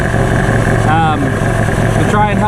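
A close 1984 Ford LTD Crown Victoria engine idles with a steady low rumble, loud and continuous, while a person talks over it.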